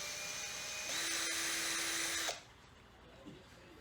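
Power drill boring a hole with a 7mm bit, a close, steady whine that rises in pitch partway through and then stops abruptly, leaving quiet room tone.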